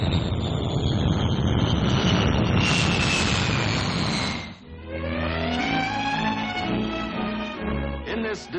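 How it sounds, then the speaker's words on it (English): A Vickers Valiant four-jet RAF bomber passes with a loud, broad jet roar and a falling whine, then fades as orchestral music swells in its place. "The RAF's tremendously powerful weapon to come is the Valliant, the new 4-jet bomber"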